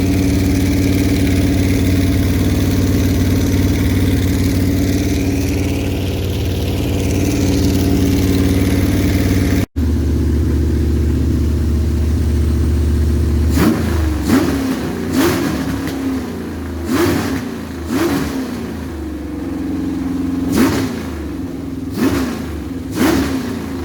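A Ford Cleveland V8 running rough on a misfire drones loudly at idle, then a series of sharp revs rise and fall with uneven, stumbling pulses.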